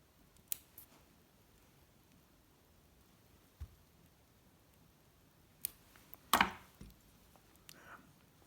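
Small scissors trimming thread ends at a fly tying vise, a few faint, sparse snips in a quiet room, with one slightly louder cut near the end.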